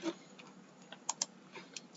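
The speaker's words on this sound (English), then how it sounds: "So tap T on my keyboard and I'll type my profile" A computer keyboard is tapped during a Figma design session, a few faint, sparse clicks with two sharper keystrokes near the middle, with no talking.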